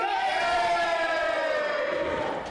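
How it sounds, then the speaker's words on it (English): Audience at an adult Purim play cheering and hollering together, a sustained loud crowd roar that holds steady and fades slightly at the end. "Yeah, that's why they're cheering."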